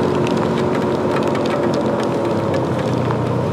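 Heavy rain in a severe thunderstorm pours over a Ryker three-wheeled motorcycle sitting still in traffic, a loud, close, continuous roar of drops and spray with no speech.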